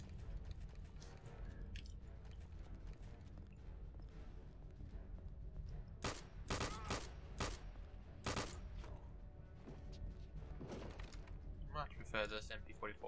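An MG42 machine gun in Return to Castle Wolfenstein fires several short, sharp bursts over steady background game noise, with mechanical clanks nearby and a person talking in places.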